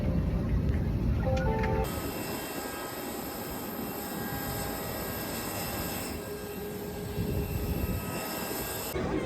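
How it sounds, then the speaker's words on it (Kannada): Steady airplane cabin noise in flight: a broad, even engine and air roar holds throughout, with a brief shift in tone early on and no talking. "ನಾವೀಗ ಫ್ಲೈಟ್ ಅಲ್ಲಿ ಕುತ್ಕೊಂಡಿದ್ದೇವೆ."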